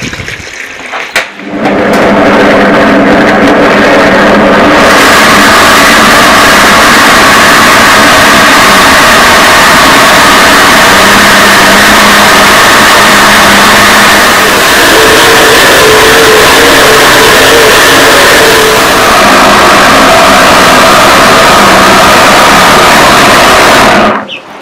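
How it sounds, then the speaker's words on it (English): A blender grinds millet with water in a village kitchen, a loud, roaring, steady whir that starts abruptly, holds with a slight dip midway, and cuts off sharply at the end. "So I'm bringing my blender so that I'll transfer it inside it and now start blending."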